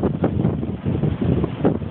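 Strong wind of about 13 metres per second buffets the microphone at Sandy Point on Waratah Bay, a rough, gusty rumble pulsing unevenly and loudly throughout.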